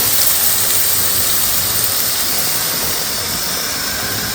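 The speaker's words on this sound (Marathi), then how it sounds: "आता कांदा परतायचं काम चालू आहे" Onions frying in a pan, a loud continuous broadband hiss and sizzle, close and steady for the whole stretch with no talking.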